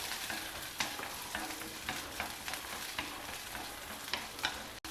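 Garlic, ginger and green chillies sauteing in a pan, with a continuous close sizzle and frying crackle broken by light scraping stirs, no voices over it.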